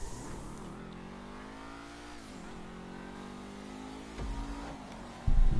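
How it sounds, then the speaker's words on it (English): Engine of an Aston Martin-style car in GTA V, rising and falling with the revs as the car accelerates, then a sudden louder burst of noise near the end, with no voices. "I believe this car is an Aston Martin"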